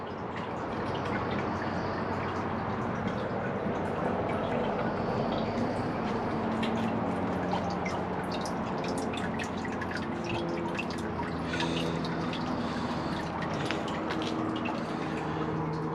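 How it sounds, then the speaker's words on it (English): A 2004 Eljer Patriot toilet with replacement tank parts flushing up close, a continuous loud rush of draining and refilling water with dripping and gurgling, steady for the whole stretch with no talk. "here is my Eljer Patriot flushing."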